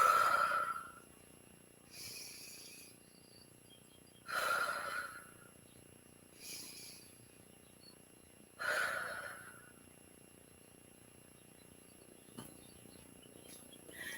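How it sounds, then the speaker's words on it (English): Slow, deep breaths alternate between inhales and exhales, about five soft airy swells spaced a couple of seconds apart. They are close and gentle in a quiet room with a faint background tone, and no words are spoken. "Let's take 3 inhales and exhales."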